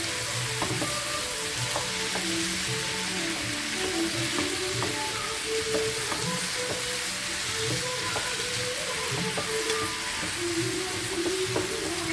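Ingredients for a Kannada gojju are mixed as they fry in a pan, with a loud, continuous sizzle and hiss and steady stirring scrapes underneath. No one speaks.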